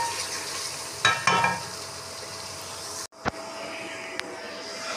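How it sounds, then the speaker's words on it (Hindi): A spoon stirs spices into chicken in a pot, with a steady sizzle of frying and a few scraping strokes against the pot. A sharp clank and brief clicks follow after a short pause. "इसको अच्छी तरह से अभी इसमें मिक्स करेंगे ताकि अच्छी तरह से सारा मसाला अब्जॉर्ब हो जाए इसमें"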